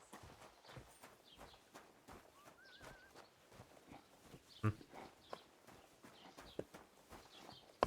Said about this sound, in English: Oh my god, a horse.